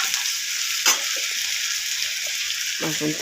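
Gram flour (besan) fries in ghee while being stirred, producing a bright, steady sizzle with a brief scrape of the spoon partway through and a faint voice murmuring near the end.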